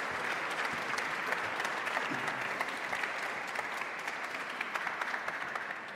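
Sustained audience applause at the opening session of the Global Crop Diversity Summit, a dense, even wash of many hands clapping from start to finish with no talk.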